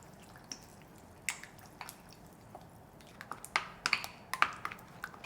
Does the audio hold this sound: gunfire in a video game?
no